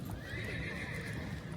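Horses during a race, with a steady rumble of hooves and faint neighing blended into a continuous, fairly quiet background with no talking.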